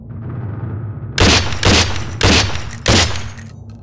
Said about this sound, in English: The M4 fires in semi and full auto modes